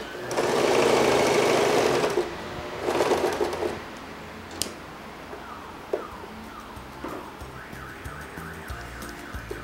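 A sewing machine stitches stretch fabric in two loud, buzzing runs close by, followed by quieter handling sounds and faint chirping in the background.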